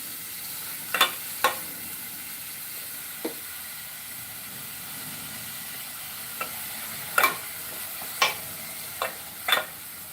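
Onion is stir-fried in a pan, with a low, steady sizzle broken by several sharp scraping strokes of a spatula at irregular intervals, close by and with no voices.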